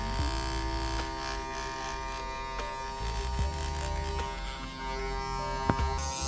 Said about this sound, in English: These clippers. While you're moving your hand, it's making all these kind of weird sounds.